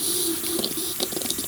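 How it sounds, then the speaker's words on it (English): Steam and draining water hiss and gurgle from the opened drain valve of a model steam engine assembly kit, a steady close wash with faint splashy drips throughout. "and let some steam through"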